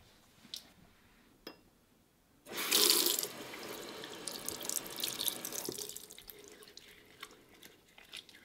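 Tap water running into a bathroom sink while hands lather a Lush Chamomile Lawn soap, a loud gushing stream starting after a few faint drips and clinks, then easing off near the end.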